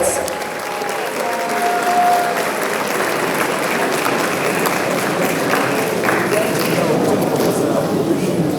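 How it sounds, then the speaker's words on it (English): Sustained loud applause from the audience at a Presbyterian College of Education graduation ceremony as the best graduating student comes up to speak, steady clapping from a large hall crowd with some talk underneath. "Let's give him a round of applause."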